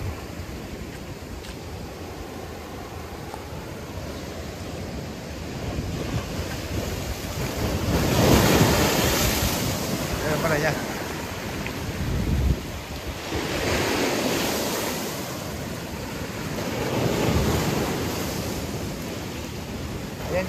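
Storm surf from Hurricane Beryl's remnants rolls against the seawall at Guánica, Puerto Rico, a constant wash under strong wind noise, with three heavier waves surging and crashing one after another.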